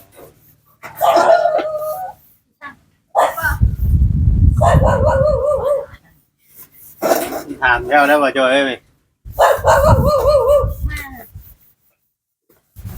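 A dog barks, yips and whimpers in short bursts between stretches of nearby conversational speech in Thai, the animal sounds close and mixed in with the voices.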